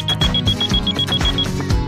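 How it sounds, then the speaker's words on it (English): A deformable STEAM robot toy's burglar alarm sounds, a steady run of bright electronic beeps repeating in a quick even rhythm over a pulsing musical backing, close and fairly loud. "This is a burglar alarm."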